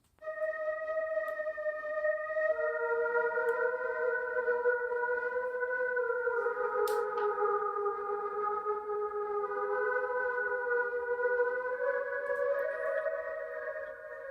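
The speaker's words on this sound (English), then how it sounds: "It is the Windy preset." An Analog Lab Windy preset plays a super airy, breathy synth flute, holding sustained stacked notes in a steady melodic line that shifts pitch a few times, fairly loud and alone for about fourteen seconds.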